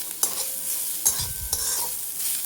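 Grated coconut sautéed in ghee in a wok, heard as a soft, steady low sizzle with three distinct spatula scrapes, close and fairly quiet, with no voices.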